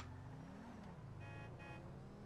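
A lowrider car engine in GTA V Online drones steadily at low pitch, its tone dipping and rising slightly as it runs, quiet and continuous with no voices.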